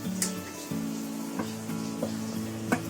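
Flour being stirred into boiling water in a pot to make modak dough, with a low steady bubbling hum and a few scraping stirs at regular intervals.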